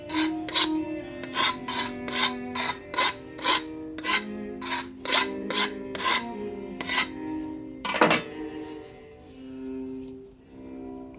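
A file rasps against a small HO-scale model tree trunk to gouge it, in a steady run of about a dozen close, scratchy back-and-forth strokes, then a sharper scrape and slower rubbing.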